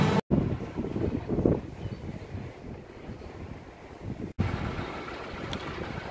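Strong wind roars and buffets the microphone in a steady, rough rush at Blackpool, with gusts swelling and easing and no voices.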